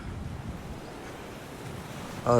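Surf at Las Lajas Beach, Panama, rolls in as a steady, soft wash of waves with light wind noise, fairly distant and even, ending with a brief louder bump.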